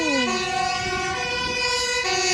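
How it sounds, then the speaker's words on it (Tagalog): A loud fire truck siren wails close by on a street in Amsterdam, its tone sweeping down then holding steady over rumbling traffic, with no one speaking. "Oh yeah, bumbero nga. May sunog yata."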